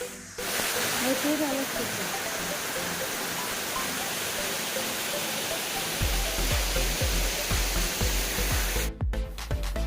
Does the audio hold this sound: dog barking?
no